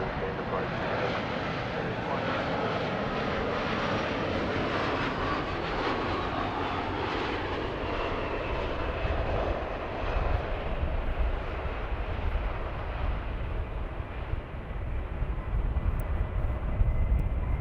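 A jet airliner takes off in fog at Dallas Fort Worth airport, with a loud, continuous engine roar that holds throughout and swells slightly near the end.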